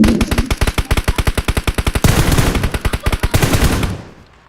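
Rapid automatic gunfire in a 3v2 round-based shooter game, a loud close burst of evenly spaced shots for about two seconds, then a denser, blurred stretch of continuous fire that cuts off and fades out.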